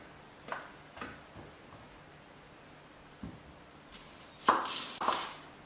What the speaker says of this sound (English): Then I'm going to cut the onion in big pieces.